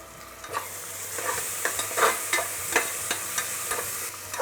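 Ginger, garlic and green chili paste with slit fresh green chilies sizzling in a pot while being stirred, a continuous frying hiss broken by repeated scraping strokes of the spoon and a low steady hum beneath.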